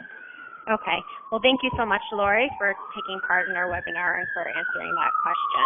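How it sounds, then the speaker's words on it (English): A siren wails steadily in the background, sweeping slowly down and back up while a person speaks clearly over it for the whole stretch. "I apologize for the sirens in the background."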